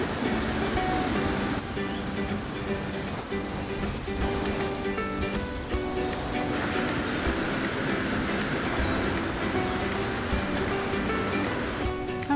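A big waterfall roars as a constant, loud, broadband wash of rushing water that stays unbroken throughout.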